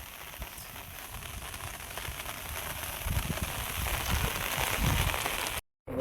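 Heavy rain pours down during crab fishing in a steady, dense hiss, growing slightly louder midway, then cuts off briefly at the end.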